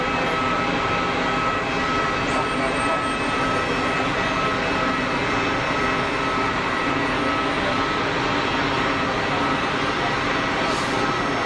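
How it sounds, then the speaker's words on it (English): Iberia Airbus A320neo rolling for takeoff at Geneva Airport, a loud, sustained jet engine roar with a steady broadband rumble that holds unbroken for the whole stretch. "Iberia 320 Neo rolling. Good acceleration there."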